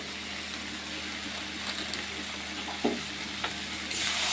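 Cumin and coriander powder fry in a pan while being stirred, a soft continuous sizzle with a few scraping strokes near the end, close and fairly quiet, no voices.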